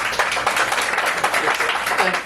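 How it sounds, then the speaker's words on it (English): An audience at an open-mic poetry night in the Rialto Theatre applauds after a poem, a dense, even patter of clapping close by that continues through the short stretch, with faint voices mixed in. "Thanks for the applause."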